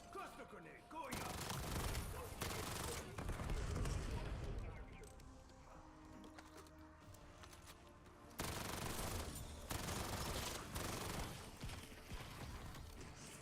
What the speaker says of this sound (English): Cluster grenade going up.